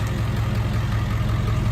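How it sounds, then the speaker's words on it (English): A 7.3L Powerstroke diesel truck engine idles smoothly with a steady low, knocking rumble, close and alone without any talk. "Now it's just sitting here idling real nice."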